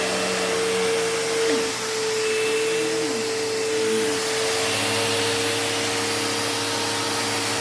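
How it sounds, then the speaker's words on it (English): A Bissell Cleanview Rewind Pet upright vacuum runs on carpet with a steady loud motor whine and airflow hiss, its pitch shifting slightly as it is pushed back and forth, with no talking. "We're gonna vacuum the carpets with the Cleanview Rewind."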